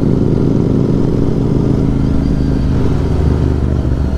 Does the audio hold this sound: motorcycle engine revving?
yes